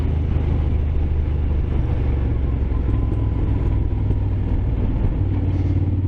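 A Moto Guzzi Griso motorcycle engine rumbles steadily while riding, with a deep, loud, continuous low-frequency drone and a slight shift in pitch partway through, and no talking over it.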